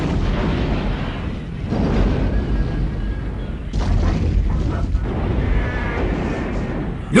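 A building explodes in an anime film, with a sustained heavy rumble of booms and crashing debris, one sharp burst partway through and a sudden pop at the end.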